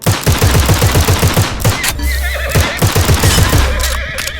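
Cavalry horses in the video game Glory Front line whinny loudly and repeatedly over rapid, rhythmic gunfire and galloping hoofbeats, with short shrill neighs breaking through the clatter.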